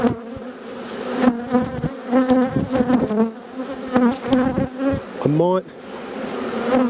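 Honeybees buzz around a hive in an Australian bee yard, a dense close drone with individual bees zipping past the microphone in rising and falling whines.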